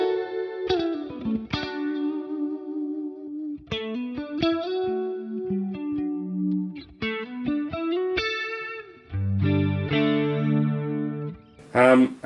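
Electric guitar played through a pitch-shifting effect preset on a Fractal FM9 unit, with distorted, harmonically layered notes in phrases and chords, sustained lines and a final strummed burst, loud and close with no talk.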